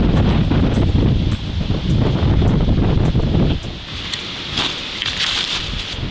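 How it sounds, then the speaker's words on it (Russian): Strong gusting foehn valley wind by the Biya River buffets the microphone with heavy low rumble, easing after a few seconds into a lighter rushing hiss with passing gusts. "долинный ветер, фен."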